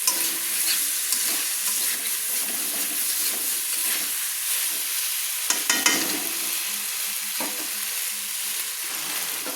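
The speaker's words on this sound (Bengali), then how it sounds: "তাই একটু হালকা হালকা করে আমি কিন্তু নেড়ে নিচ্ছি।" Sliced drumsticks (moringa pods) being gently stirred with spices in a hot pan give a soft continuous sizzle with scraping stirs and occasional clatter, close by and without talk.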